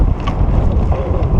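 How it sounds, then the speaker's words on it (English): Wind buffets a microphone outdoors near a highway construction site, producing a loud, continuous low rumble with no talking. "it's windy out."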